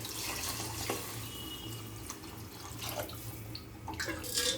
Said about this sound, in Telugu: నేను గ్లాస్కి 2 గ్లాసులు రైస్ వాటర్ పోస్తున్నాను